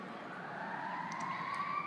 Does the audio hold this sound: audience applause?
no